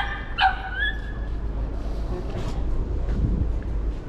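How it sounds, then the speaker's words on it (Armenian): A small dog tied up outside a supermarket gives a sharp, rough-voiced bark followed by whining yips, close by over steady street and traffic rumble. "Ինչ էլ փոքր դուրեկան շուն է, բայց լաչար ձեն ունի"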